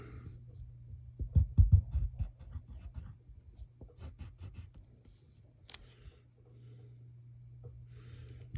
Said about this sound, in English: you're going to be drawing a lot of triangles